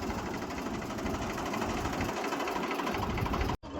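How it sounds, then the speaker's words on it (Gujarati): A steady, loud tractor engine drone with a rapid mechanical chugging rumble runs continuously, cutting off abruptly near the end. "જો પ્રદીપભાઈ લઈને જાય છે ટ્રેક્ટર"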